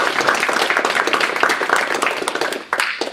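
An audience at a data wrangling meetup applauds a speaker, giving a dense, even spread of many hands clapping fairly loudly for about three seconds with a brief dip near the end.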